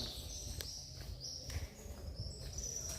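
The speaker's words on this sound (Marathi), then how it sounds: "पक्ष्यांचा किलबिलाट" Several birds chirp and twitter at dusk in overlapping high calls, moderately near, over a low steady rumble of outdoor background noise at Narayangad fort.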